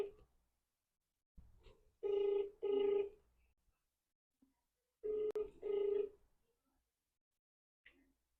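Ringback tone of an outgoing telephone call, two double rings a few seconds apart with quiet gaps between them, close and clear, with a faint voice murmuring at the start.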